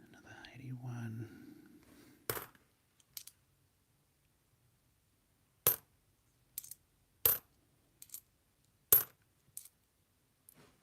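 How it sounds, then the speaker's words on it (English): Sharp metallic clinks of two cent and one cent coins drop one at a time onto a hard surface in a quiet room, spaced irregularly after a brief stretch of whispered talk. "I'll just filter those 1 cent coins out as I'm going."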